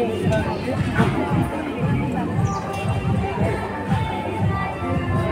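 A large crowd gathers at a parish Thanksgiving holy Eucharist celebration, a steady dense murmur of many voices chattering together close by, with no single speaker standing out.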